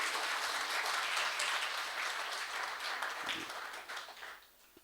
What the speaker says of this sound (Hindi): तो आप एक बार इनके लिए जोरदार तालियां बजा सकते हैं।